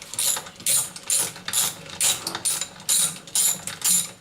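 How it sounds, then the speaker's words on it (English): Socket set ratchet clicking in about nine steady strokes while dismantling an old broken water pump, each turn a close, crisp burst of pawl clicks with short pauses between. "This socket set I'm using here,"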